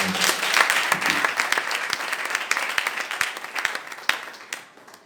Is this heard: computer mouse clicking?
no